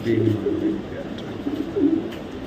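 Low cooing of a pair of black checker racing pigeons murmurs in short phrases under a faint steady hum, a couple of coos standing out near the end.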